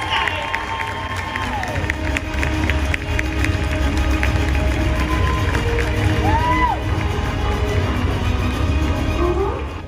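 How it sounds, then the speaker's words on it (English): A large audience at a cosplay contest claps and cheers loudly and continuously, with whoops and shouts rising over a dense crowd roar, and voices mixed through the noise. "So please give them a round of applause, guys, as they make their way on"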